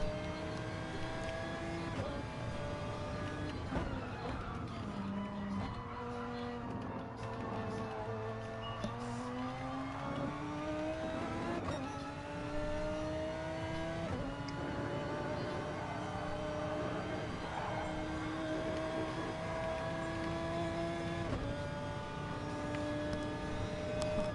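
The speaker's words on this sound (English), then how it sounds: "Let's join him on board in his Audi R8. Just hear the sound of this car." An Audi R8 race car engine in a racing video game drones steadily for the whole stretch, its pitch rising and falling with gear changes and throttle, loud and continuous, with a voice talking faintly underneath.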